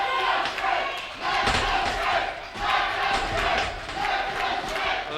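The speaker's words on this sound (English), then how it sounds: "The crowd rallying behind the Young Lions championship" A wrestling crowd at an Anarchy Wrestling Young Lions title match cheers and rallies, loud surging waves of shouting voices that swell and dip several times, with thuds mixed into the roar.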